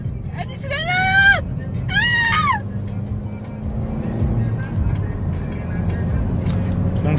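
A car driving on a motorway, with a steady low road and engine rumble throughout and a high chirping sound over the first few seconds.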